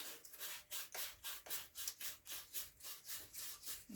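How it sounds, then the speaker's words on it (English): Sandpaper rubbed by hand over a bathtub surface after a repair, smoothing out small scratches: a steady series of rhythmic back-and-forth scraping strokes, close and fairly quiet, with no voices. "just got a little sandpaper"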